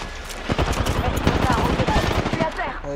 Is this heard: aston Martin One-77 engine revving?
no